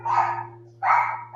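A dog barks twice, loud and close: two drawn-out, whining barks separated by a brief pause, with a steady low hum underneath.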